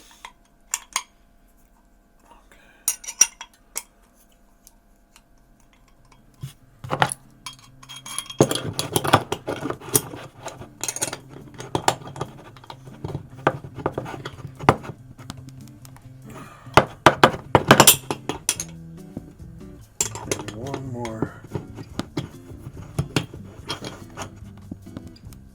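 Metal tightening on a moka pot fitted with a pressure gauge, heard as scattered close clinks, thunks and scraping of metal parts, with quiet stretches between bursts of handling.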